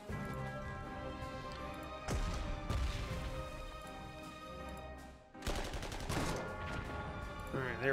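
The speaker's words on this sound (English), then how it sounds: "let's just bombard to see if we can" Artillery bombardment in the strategy game Panzer Corps 2, with heavy, crashing shell blasts in two big loud bursts separated by a brief lull, over a steady background bed of battle and music.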